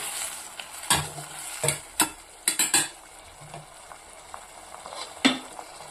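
Ginger chutney with tamarind is stirred in a pan: sharp metallic clinks and scrapes of a spoon come in uneven bursts over a soft background sizzle, close and with no talking.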